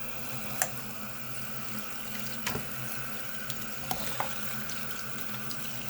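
Tap water runs steadily into a sink while a Poppet fidget toy is rinsed, a continuous splashing hiss broken by a few faint clicks and knocks.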